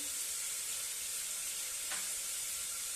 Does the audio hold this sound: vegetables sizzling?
yes